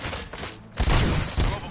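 Gunfire in the RoboCop: Rogue City video game, a burst of loud, dense shots with booming low-end impacts and clattering mechanical noise, continuing across the stretch after a brief quieter opening.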